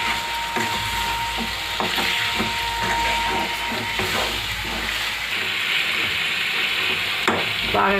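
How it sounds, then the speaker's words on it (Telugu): Chicken fritter mixture fries in hot oil, a loud continuous sizzle under repeated wooden scraping and knocking as it is moved in the pan, heard up close. "బాగా కలిపి ఒక 5 నిమిషాలు ఆయిల్లో ఫ్రై చేసుకోవాలి"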